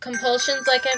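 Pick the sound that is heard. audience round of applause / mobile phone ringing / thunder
mobile phone ringing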